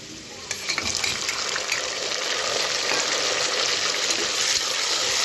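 Tomatoes frying in a pan for veg biryani give a steady, loud, broadband sizzle that jumps up after a brief quieter start and keeps going unbroken, with light stirring scrapes mixed in and no voices.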